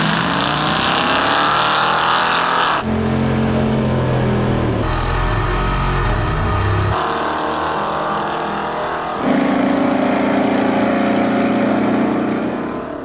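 Chevrolet Bel Air gasser on a drag strip, its loud engine roaring through a full acceleration run with distinct gear changes stepping the pitch up and down, close and continuous, with no talk.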